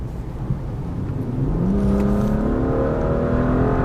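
A BMW 435i sports coupe engine revs up and accelerates, its pitch climbing smoothly into a strong, steady sporty roar, loud and close with no talking.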